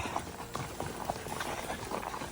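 Horse hooves clip-clopping at a walk as a trail horse picks its way down a steep creek trail near Eminence, Missouri, with irregular close thuds over a steady outdoor background.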